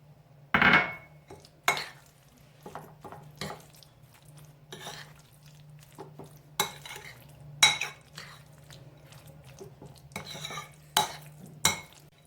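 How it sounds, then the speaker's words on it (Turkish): A utensil stirs roasted eggplant salad with walnuts, dill, tahini and olive oil in a bowl, making scattered clinks and scrapes against the dish over a quiet background, with a sharp knock near the start. "Karıştırıyorum tekrar."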